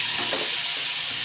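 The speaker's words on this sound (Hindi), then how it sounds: "तो देखिए फ्रेंड्स कि हमारा मसाला अच्छे से भुन गया है।" Spice masala roasting in a pan, a dense steady hiss of sizzling oil with faint stirring movement, close and unbroken.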